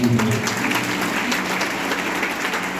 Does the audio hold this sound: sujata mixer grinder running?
no